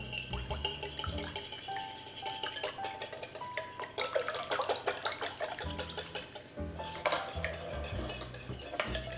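Potatoes and carrots tossed and stirred in a bowl for a cheesy potato and spinach bake, giving a steady run of close clinks and scraping clatter over faint background music.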